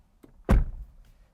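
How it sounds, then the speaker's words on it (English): A 2014 Bentley Flying Spur driver door swinging shut with a single solid, close thunk, preceded by a faint tap and followed by a brief settling rattle. "as we close the driver door here"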